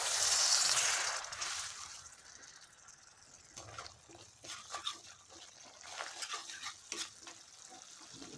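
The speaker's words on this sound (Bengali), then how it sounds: "দিয়ে দিচ্ছি আরেকটু পরিমাণ জল।" Water poured into a spice mixture being cooked down for a paneer curry, a gushing splash at first that fades into soft bubbling and stirring clatter, close and fairly quiet.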